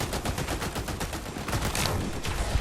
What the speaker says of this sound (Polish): Czemu tu wszystko wybucha?